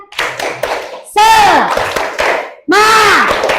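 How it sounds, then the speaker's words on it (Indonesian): Rhythmic group clapping in a classroom, several quick claps in bursts, mixed with children's voices chanting loudly. "Tepuk tangan untuk 6 kelompok."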